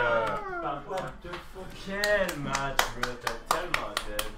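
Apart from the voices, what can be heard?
audience clapping at Smash Bros tournament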